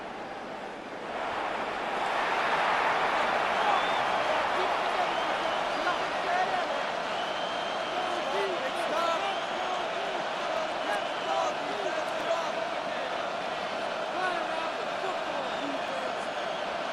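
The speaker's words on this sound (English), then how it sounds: "This crowd turning up the decibel level." A big NFL stadium crowd at a Ravens versus Chiefs game swells into a sustained, loud roar that holds steady throughout, with no distinct voices standing out.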